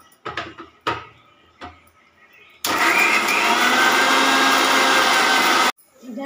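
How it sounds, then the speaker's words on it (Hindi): A kitchen mixer grinder grinds spice masala with garlic in one loud, continuous whirring burst lasting about three seconds, after a few clicks and knocks as the jar is set in place. "मसाला तैयार हो गया है और इसको ग्राइंड कर लेंगे।"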